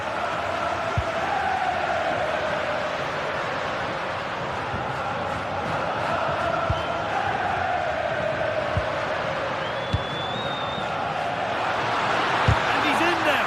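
A video game football match carries a broad, steady stadium crowd roar throughout, with a commentator talking over it and a few sharp thuds.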